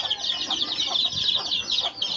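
Many young chicks cheep continuously as they are given feed, a dense, busy chorus of high peeping that stays steady and close throughout.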